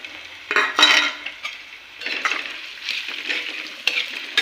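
Potatoes tossed into fried onion in a pan scrape and clatter under a metal spoon in irregular bursts, with a soft sizzle between strokes, close by and without speech.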